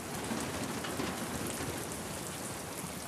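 Steady rain falls in the video game The Last of Us Part 2, a dense even hiss of drops on surfaces, soft and continuous with no voices.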